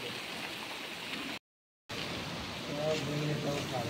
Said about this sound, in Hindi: इस मौसम का पहला बरसात